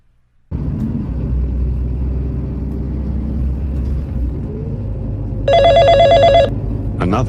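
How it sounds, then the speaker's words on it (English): A telephone in an animated city bus transit office rings in a loud, steady electronic burst of about a second, standing out over a continuous low rumble of traffic and engine noise, with a second short ring starting at the end. "Another phone call."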